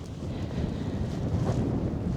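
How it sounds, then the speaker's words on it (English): Steady wind buffets the microphone on a grey, windy day in a remote British town, a constant low roar with no voices. "it's such a gray and windy day today"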